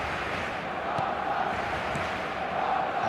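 Stadium crowd in the eFootball video game, a steady dense murmur of many voices filling the arena throughout, with no distinct cheers standing out.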